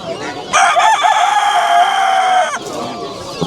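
A rooster at a poultry market crows one long, loud, strained call lasting about two seconds, with fainter market noise before and after.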